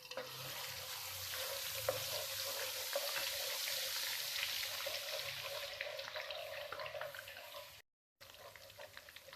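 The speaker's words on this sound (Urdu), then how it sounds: "تیل ہمارا گرم ہو چکا ہے، اب اس میں لہسن اور ادرک کا پیسٹ ڈالیں" Garlic and ginger paste frying in hot oil for a street-style chicken malai kofta, a steady close, loud sizzle with crackling spatters throughout, briefly cutting out near the end.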